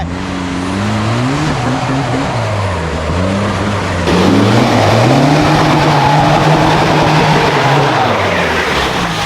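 Off-road vehicle engine revving hard up a hill on a rainy-season mountain trail, pitch rising and falling as it strains and climbs, roaring louder midway with rough mechanical noise underneath.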